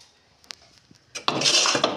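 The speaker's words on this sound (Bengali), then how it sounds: "এই দেখো বাসন রেখেছি" A few light clinks of metal kitchenware lead into a sharp clattering of dishes and pots being set down in a home kitchen. The clatter is close and brief, with no talking.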